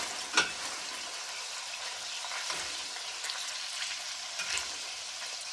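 Pieces of wahoo and yellowtail tuna sear in a hot pan with a bright, steady sizzle, broken by a few sharp clinks and scrapes as they are moved.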